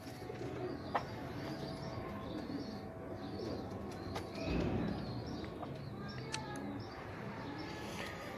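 Breeder pigeons coo softly in a loft, the faint, low calls mixed with a few light chirps and small rustles over quiet background noise.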